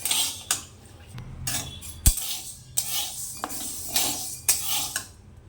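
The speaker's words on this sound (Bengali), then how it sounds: "এখন আমি বিউলির ডাল ভাজা বসাচ্ছি" Urad dal frying in a pan while a utensil stirs it, giving repeated scraping strokes in a steady rhythm over a faint sizzle, close and alone.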